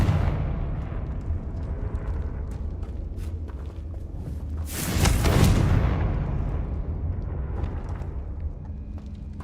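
A Confringo fire spell blast in the video game Hogwarts Legacy: one loud burst booms about midway through, over a steady rumbling game background.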